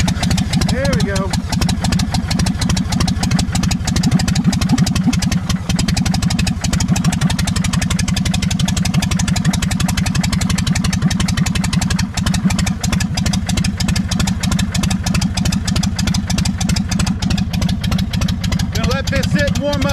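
An engine idles steadily after a cold start, warming up with a loud, even, slightly clattering rumble that runs unbroken throughout.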